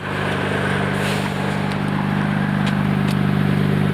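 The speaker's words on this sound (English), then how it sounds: "Noisy exhaust." A 1991 Nissan Skyline GT-R's noisy exhaust idles with a loud, steady low rumble and a throbbing burble, close by and continuous.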